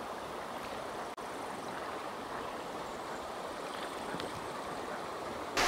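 A brook flows steadily beside a riverside wilderness campsite on a canoe trip, its broadband rushing water noise continuous and close throughout, with no talking.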